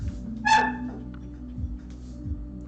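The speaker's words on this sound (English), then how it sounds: "I hear a pep from her puppy." A puppy lets out a single short, high yip close by in a kitchen, with faint low background hum and no talking around it.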